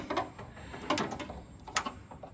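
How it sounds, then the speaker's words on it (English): A tap cuts thread into a nut, making a close series of small grinding, ratcheting clicks and scrapes with irregular metallic ticks, with no speech. "relieve the chips as you cut the thread"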